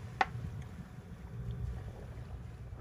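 A sailboat under way at night off Fiji gives a low rumble of wind and water against the hull, with one sharp knock near the start and no voices.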